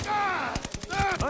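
Rapid bursts of gunfire from the Call of Duty: Vanguard video game crackle loudly and close, a quick volley of shots over a steady game soundtrack.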